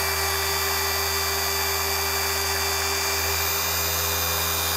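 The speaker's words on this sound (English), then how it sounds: "Key to keep the polisher nice and slow, building up some heat, not too much." Car polisher spinning slowly on a BMW M2's paintwork to remove swirls, a constant, even electric motor whine with a steady hum and no pauses.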